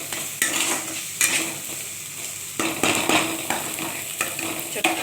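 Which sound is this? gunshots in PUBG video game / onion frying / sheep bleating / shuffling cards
onion frying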